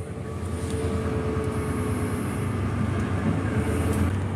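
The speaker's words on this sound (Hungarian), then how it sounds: "Figyeljetek, kanyarodik a busz." A bus travelling through a town in Portugal rumbles steadily through a turn, a continuous low engine and road drone heard from inside, moderately loud and even, with no talk.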